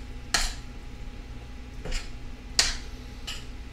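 A spoon scraping and clinking against a pot while macaroni is stirred with butter, with four sharp metallic taps spread irregularly over a low steady hum.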